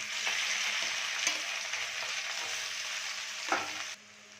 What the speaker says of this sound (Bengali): ম্যাশ করা আলুগুলো আমি কড়াইতে দিয়ে দিলাম